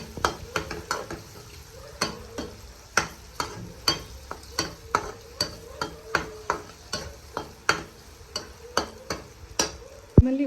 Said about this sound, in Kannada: ಎಗ್ ಹಾಕ್ಕೊಂಡು ಈ ಥರ ಫ್ರೈ ಮಾಡೋಣ.